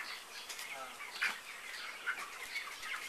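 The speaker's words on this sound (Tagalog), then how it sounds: "Ano siya, manok? Ang daming manok!" Chickens cluck and call in short bursts nearby, with some wing flapping and light background chatter.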